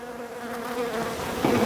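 A honeybee colony inside a cold hive in February gives off a dense, steady buzzing drone, heard close and continuous with no talking.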